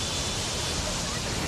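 Floodwater rushing out of the opened gates of Kota Barrage on the swollen Chambal River, a steady broadband roar that stays constant and loud, with a voice partly audible over it.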